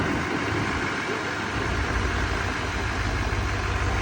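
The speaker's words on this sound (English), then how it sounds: "So I'm gonna go ahead and start it up again and use my remote" Chevy L5P Duramax diesel pickup engine, 2017-19 model, idling just after a remote start on a cold day: a steady, dense low rumble with no change in pace, close and fairly loud, alone without talk.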